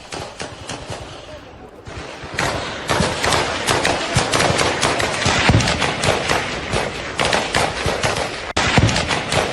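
Heavy gunfire at the Pakistan-Afghanistan border in Khyber Pakhtunkhwa, from a Taliban attack on Frontier Corps forces: loud, dense bursts of rapid shots fire almost without pause.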